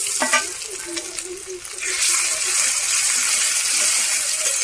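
Ground tomato and onion paste sizzles and fries hard in hot oil in a pan, with a few stirring scrapes at the start and then a steady, loud, close hiss.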